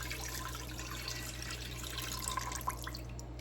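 Broth poured from a small can into a pot for country style ribs, a soft continuous liquid trickle with a few brief splashes, quiet and alone without talk.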